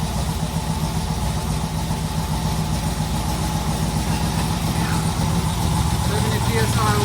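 A supercharged car engine with a blower idles at steady volume throughout, a rough, continuous rumble heard close up with people talking over it.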